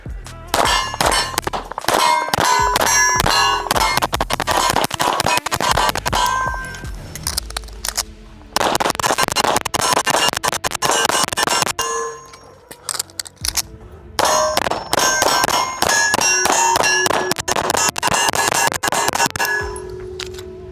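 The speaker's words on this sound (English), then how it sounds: "let's go over here and just shoot fast" Rapid shots from a Hayes ported Colt Cobra revolver, fired fast on an outdoor range, ring off steel targets in loud sharp bursts with bright clanging tails, in long strings broken by brief pauses.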